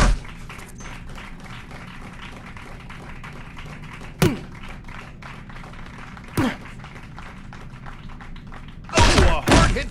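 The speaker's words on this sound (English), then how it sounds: "What a shot! Scraps really showing off his power with that blow." Boxing punches land in the VR game Creed: Rise to Glory as a few sharp thumps spread through a busy crowd-like background, with a louder cluster of hits at the end.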